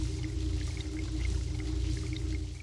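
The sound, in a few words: running water in the video game Nanashi no Game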